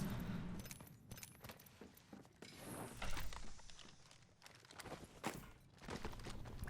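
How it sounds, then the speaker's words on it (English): Footsteps in the video game Apex Legends, a run of short crisp steps with jangling, gear-like rattles, fairly close and loud with irregular spikes and no talk. "I can hear footsteps"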